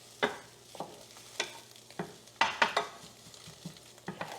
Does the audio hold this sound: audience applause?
no